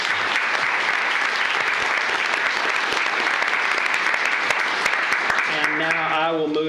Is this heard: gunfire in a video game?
no